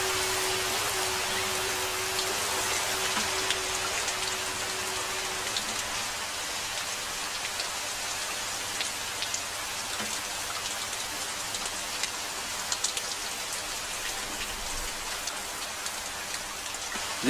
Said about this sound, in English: rain has come, even before we have finished sowing the seeds!